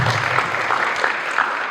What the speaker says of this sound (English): So let's give a round of applause to our candidates.